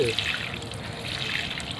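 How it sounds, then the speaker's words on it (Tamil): Water sprinkles from a watering can onto freshly sown greens seeds (paruppu keerai) in a garden bed, a steady soft hiss and patter that stays close and even for a couple of seconds without talk. "இப்போ இது வந்து நான் பூவாளியில் தண்ணி ஊற்றுறேன்"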